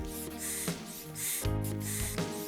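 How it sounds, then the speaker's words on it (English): A yellow twisting balloon being inflated to make a balloon bee gives a steady airy hiss in a few pulsing bursts, close and fairly loud, with squeaky tonal overtones and no talk. "I'm going to inflate a yellow balloon,"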